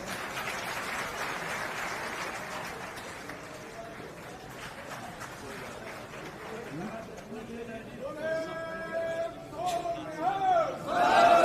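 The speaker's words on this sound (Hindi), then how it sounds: "तालियों के साथ स्वागत।" A rally crowd applauds and cheers to welcome a speaker, the clapping swelling in the last seconds, while a voice calls out over the noise.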